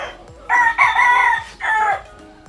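A four-year-old broodcock named Golden Boy Sweater, a one-time winning gamefowl, crows nearby, one long, loud call broken into rising bursts over a quiet background.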